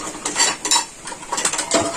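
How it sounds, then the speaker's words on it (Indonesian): Tempe frying in a pan at home, with busy clinks and scrapes of a utensil against the pan over a faint background sizzle. "Lagi bikin goreng tempe sahabat."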